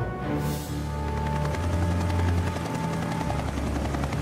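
Helicopter flying with a loud, steady rotor throb and engine whine, continuous and close throughout.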